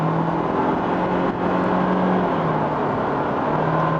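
Steady road and engine drone from a Toyota Prius hybrid cruising at high speed, a continuous broadband rush of tyre and wind noise with a low hum throughout, no talking.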